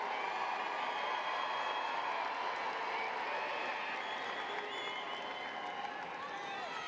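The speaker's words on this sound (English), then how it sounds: "Graduates, thank your family, your friends, your relatives, all the people who have come to support you with a loud cheer." A large crowd at a high school commencement ceremony claps and cheers in a sustained, even roar of applause, fairly distant and holding steady throughout.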